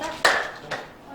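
A trainer at a teacher training session gives two sharp, ringing hand claps with fingers slightly spread, each one distinct and close, separated by about half a second.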